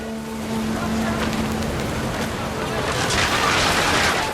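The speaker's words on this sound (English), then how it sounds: "I'm just summoning up a storm here." Heavy rainstorm in the game What Remains of Edith Finch, a dense continuous hiss of downpour with a steady low rumble, loud and unbroken throughout.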